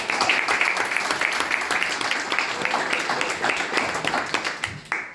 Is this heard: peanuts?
no